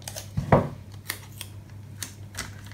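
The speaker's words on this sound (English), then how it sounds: "Got the scissors, I may as well." Scissors snip masking tape during a craft project, giving a sharp close cut near the start followed by several lighter, spaced clicks and snips in an otherwise quiet room.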